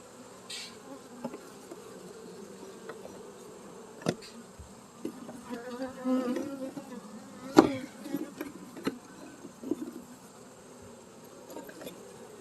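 Bees buzzing around a beehive during a farm hive inspection, a steady low hum of many insects close by, broken by scattered knocks and clatters of equipment.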